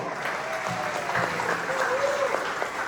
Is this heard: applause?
yes